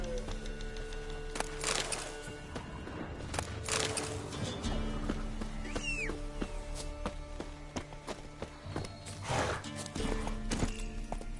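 In The Witcher 3, a horse gallops with a rapid, continuous clip-clop of hooves and lets out a neigh midway. A voice speaks briefly over the hoofbeats.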